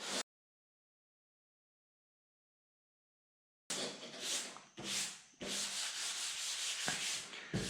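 Hand block sanding on primer over a car body panel makes rough, close rasping strokes after a stretch of silence, a few separate swipes giving way to steady continuous rubbing.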